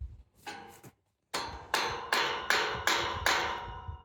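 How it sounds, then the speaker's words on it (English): A hammer strikes wood and nails while a 15-foot ranch gate is built against a post: a few light taps, a pause, then five loud, evenly spaced close blows. "Give me the hammer out of the bucket."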